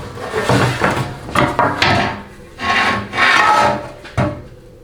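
Metal scraping, rubbing and prying come from a 4L80E transmission oil pan being worked loose, in bursts of close, gritty rasping with short knocks and pauses between efforts.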